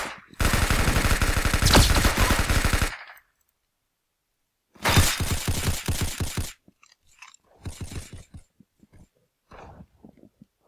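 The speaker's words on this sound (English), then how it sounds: "concussion rifle" Concussion rifle from a video game firing in two sustained, loud rapid bursts of heavy automatic blasts, each lasting a couple of seconds, followed by fainter scattered impacts and crunches.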